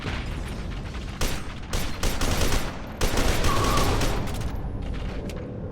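A grenade blast and bursts of gunfire from the PC shooter F.E.A.R. 2: Project Origin fill the scene, with loud repeated rattling volleys and booms clustered through the middle, no talking.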